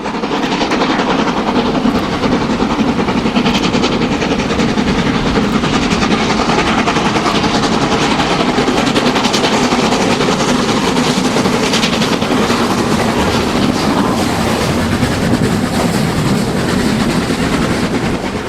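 Two steam locomotives, 44871 and Leander, haul the Buxton Spa Express near Chapel-en-le-Frith in winter, a loud, continuous rumble of engines and rolling stock passing close by without talk.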